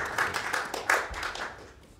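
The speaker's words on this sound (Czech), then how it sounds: "je to tedy Petr Kotík, můžeme asi drobný potlesk, pokud to vyžaduje situace" Light, sparse clapping from a small group, several quick claps over a couple of seconds, fairly quiet and fading out.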